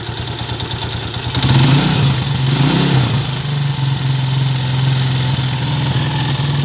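A vehicle engine idles steadily with a fine, rapid valve tappet ticking running through it. A brief revving swell comes near the start, then a constant close drone.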